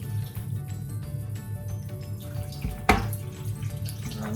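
Tap water runs steadily into a dish of corn flour meant for coating pork in a home kitchen, a continuous close splashing with a sharp clink partway through.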